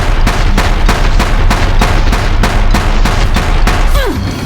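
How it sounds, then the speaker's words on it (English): Deathbringer machines firing in the video game Horizon Zero Dawn, a loud sustained barrage of rapid heavy gunshots in steady bursts with booming low impacts, no talking. "If the Deathbringers keep firing, this bridge will go!"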